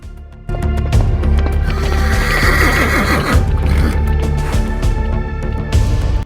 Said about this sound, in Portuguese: Relinchos curtos e sinais corporais alertam os outros membros do bando para o perigo.